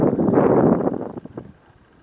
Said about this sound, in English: Pretty windy up here.